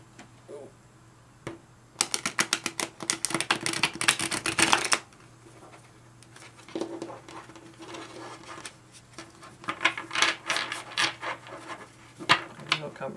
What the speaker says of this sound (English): We'll suffer through one more shuffle.